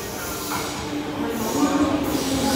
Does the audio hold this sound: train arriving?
yes